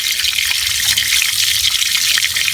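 Water sprayed over the roots of a plant as they are washed clean, a steady hissing, splashing rush that runs close and loud without a break and with no talking.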